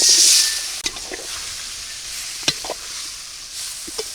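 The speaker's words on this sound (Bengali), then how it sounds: "মাছ ভাজা তেলের মধ্যে আমি এই আলু কাটা ভাজিয়ে নিব আলু দিয়ে দিলাম" Cut potatoes frying in oil left over from frying fish, a steady close sizzle with a bright hiss as they go in, followed by sharp clinks and scrapes of a spatula against the pan.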